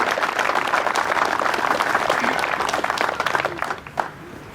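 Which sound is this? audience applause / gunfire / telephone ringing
audience applause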